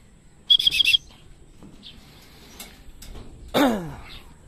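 Racing pigeons arriving home one by one after a 98 km training release in Sto. Tomas, Batangas, with a brief burst of high chirping, then quieter rustles and a sharp descending squeak near the end.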